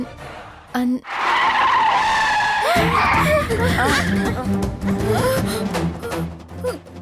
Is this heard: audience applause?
no